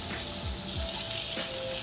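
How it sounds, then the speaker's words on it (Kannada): Sliced onions frying in oil until brown, a close, continuous sizzle and crackle with a few soft scraping stirs. "ಚೆನ್ನಾಗಿ ಫ್ರೈ ಮಾಡ್ಕೊಳ್ಳಿ. ಅದು ಕಂದು ಬಣ್ಣ ಬರೋವರೆಗೂ ಫ್ರೈ ಮಾಡ್ಕೊಳ್ಳಿ."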